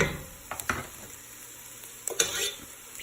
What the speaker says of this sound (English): And we're just gonna get that sauteing a little bit.